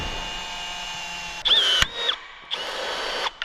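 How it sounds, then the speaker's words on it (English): A power drill bores out rivets on a combine header in short whining bursts, three close, loud runs with brief pauses between, and metallic squeals as the bit cuts through. "Not hard to do, just drill rivets and then rivet it back on."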